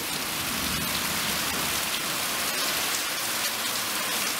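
Heavy rain pours down steadily outdoors, a dense, loud, constant hiss of drops hitting surfaces with no pauses and no voices.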